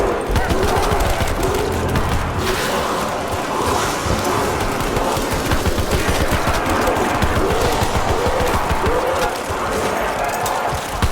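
Dense, continuous gunfire fills the scene in Call of Duty Black Ops 4 Zombies, a pistol-only run of the IX map, with rapid shots layered over game music, creature noises and character voice lines throughout.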